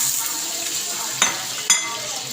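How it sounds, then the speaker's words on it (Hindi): Chicken sizzles in a pan with tomatoes and green chillies for a Lahori spicy biryani, a steady bright frying hiss broken by two sharp clinks of a spoon against the pan. "हमारा चिकन बहुत प्यारा सा फ्राई हो चुका है।"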